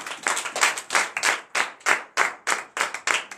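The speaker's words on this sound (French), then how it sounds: "veuillez vous asseoir et donner de vives acclamations à notre Seigneur Jésus" Rhythmic, steady hand clapping from a church congregation at morning prayer, about three claps per second, close and lively with no voices.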